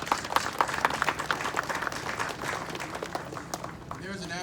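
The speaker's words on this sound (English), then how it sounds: "Let's give them another hand clap." An audience applauds the Faulkner University Choir, a busy wash of many hands clapping that is strongest at first and then thins out, with some voices mixed in.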